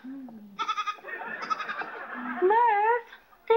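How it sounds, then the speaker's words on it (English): A goat bleats loudly and close by in a run of wavering, nasal cries, with one longer quavering bleat near the end and short gaps of near quiet between calls. "they don't allow goats on roller coasters"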